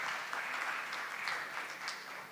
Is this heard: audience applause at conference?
yes